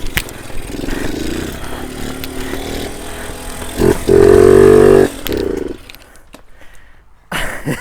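Suzuki RMX two-stroke dirt bike being kicked over, its engine catching in rough, loud roaring bursts that swell and cut out, with a few sharp clanks and a quieter stretch before it revs again.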